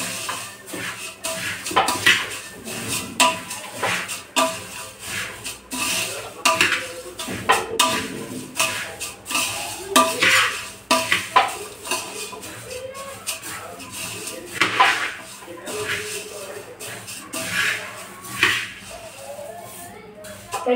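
Puffed rice chivda being mixed in a pan gives irregular scraping, rustling and metallic clinks of a spoon against the pan over about twenty seconds, with a voice heard at times.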